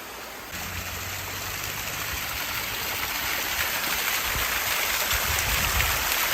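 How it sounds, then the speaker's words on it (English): A small, clear, cold mountain stream spills out of a hillside in the San Gabriel Mountains, giving a steady close hiss and burble of running water that holds even throughout. "there's all sorts of little small streams that come out of the hillside"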